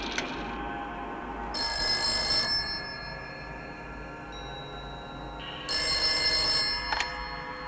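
A telephone ringing indoors in a 1992 Italian film, two distinct bursts of bright electronic ring separated by a pause, clear over a quiet background.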